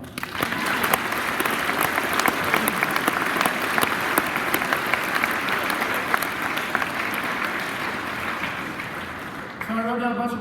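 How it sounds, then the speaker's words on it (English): An audience at a veterans' assembly applauds steadily for the speaker's wife, a dense, loud wash of clapping that fills the room and then breaks off near the end as a voice begins to speak. "How about a round of applause for my wife?"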